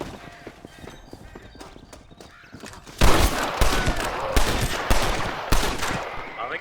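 In the western video game Red Dead Redemption, a quiet stretch breaks into a loud, close barrage of gunfire, with rapid overlapping shots continuing for several seconds.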